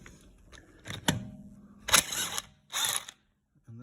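A locking wheel nut being worked loose from a car wheel without special tools, a series of sharp mechanical clicks and grinding ratchet-like bursts, close and separated by short pauses.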